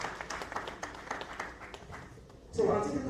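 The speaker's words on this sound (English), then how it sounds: "Please, a round of applause for him." Applause from a workshop audience after a speaker's contribution, a dense spread of claps that builds and swells louder near the end, with voices in the room.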